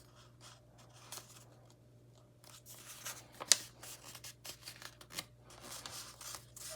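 Scissors snip through folded paper to cut a snowflake, the soft, irregular cuts faint and scattered over a steady low hum.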